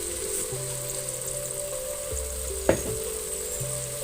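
Basil (kemangi) leaves cook in a pan with a steady, soft sizzle and faint hiss, broken by a single sharp utensil tap midway.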